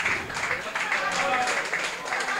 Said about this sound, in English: they're getting a good round of applause for a fantastic first half display